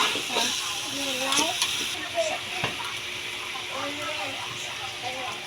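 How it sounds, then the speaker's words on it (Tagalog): Garlic, onion, ginger and vegetables being stirred in a pan, a soft continuous sizzle with occasional scraping, heard under a person talking. "ng ating ginisang bawang, sibuyas at luya. Ayan, halu-haluin."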